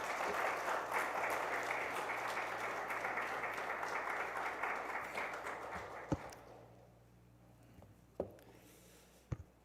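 A church congregation at a Baptist revival service claps warmly in welcome of the pastor, a dense, sustained round of applause that thins and fades after about six seconds, followed by a few scattered taps and thumps.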